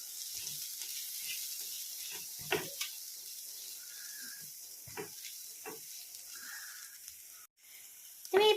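Turmeric, chili and pepper powders fry in oil in a pan, making a steady low sizzle broken by a few scraping strokes of a stirring spoon and a louder clatter at the end.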